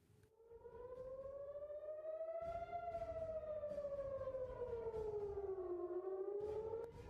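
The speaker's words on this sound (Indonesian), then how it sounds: "menyebabkan sirine serangan udara meraung di seluruh penjuru Tel Aviv" Civil defense air raid sirens wailing across Tel Aviv during an Iranian missile attack, a rising and falling howl sustained throughout, distant and faint with layered tones.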